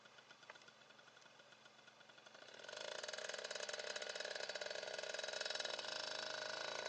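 The small engine of a Suzuki RMX 50 motorcycle idles with a rapid, buzzy, rattling putter, then revs up around the midpoint to a louder, steady high drone.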